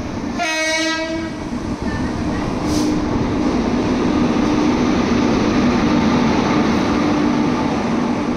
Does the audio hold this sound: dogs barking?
no